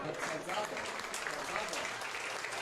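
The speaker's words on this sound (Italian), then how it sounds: "Gli applausi che ora sentite sono per Idoiaga" Stadium crowd applauding an injured football player after a hard head clash in an Eccellenza playoff final, a steady broad wash of clapping with a commentator's voice running over it.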